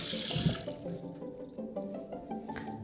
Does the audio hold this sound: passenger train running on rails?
no